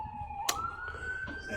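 An ambulance siren passing on a city street, a moderately faint rising wail with a sharp click partway through, heard over low background noise.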